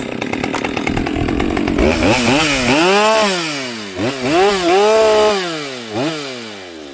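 A Husqvarna 572xp chainsaw, recently treated for a lean-running fault and a fouled plug, restarts and runs loud and close, its engine note swooping up and down through repeated revs and dips with no talk.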